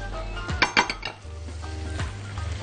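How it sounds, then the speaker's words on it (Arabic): Pasta with chicken and roasted peppers being stirred in a wok, giving a few close clinks and scrapes of utensil against metal over a low sizzle and steady hum. "هبدا اقلب"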